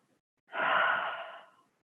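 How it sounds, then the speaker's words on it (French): A single slow, breathy exhale during a Hatha yoga breathing exercise, soft and close, rising quickly then fading over about a second in a quiet room. "Encore une fois, inspire et expire."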